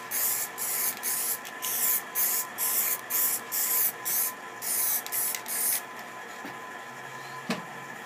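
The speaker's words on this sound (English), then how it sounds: "I'm going to put a clear varnish on it. It's a spirit-based high gloss, and just a few" Short bursts of spray from a can or gun apply spirit-based high gloss clear varnish to wood in light passes, a rhythmic series of close hissing puffs that stops near the end, leaving a quiet room.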